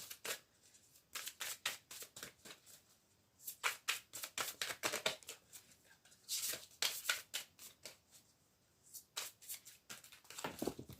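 Oracle cards are shuffled by hand for a reading, producing crisp riffling bursts in uneven clusters with short pauses between them, close and quiet in a calm room.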